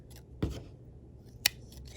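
Scissors cut crochet yarn to fasten off a small handmade bear: two crisp, separate snips about a second apart, close and quiet, with no talking.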